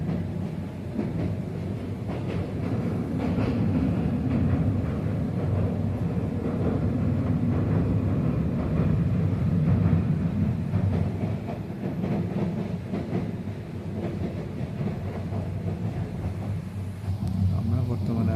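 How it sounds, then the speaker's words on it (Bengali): A passenger train crosses the Titas railway bridge on the Dhaka to Cox's Bazar line, giving a loud, continuous rumble and rattle that holds steady from start to finish. "তো আমরা এখন তিতাস রেলওয়ে ব্রিজের উপর দিয়ে পার হব।"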